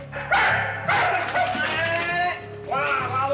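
A police training dog barks loudly and close in a series of sharp, insistent barks with short gaps, mixed with whining yips.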